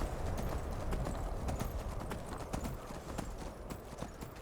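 Horse hooves clopping in the video game Skyrim, a rapid continuous patter of footfalls at a trot or gallop over a low rumbling background, fairly close and steady throughout, no voices.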